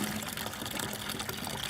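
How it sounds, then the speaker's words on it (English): Water runs from a hose through the engine block of a 1972 International 1210 tractor, producing a steady, faint rushing and trickling flow with no voices. "I'm just running water through it."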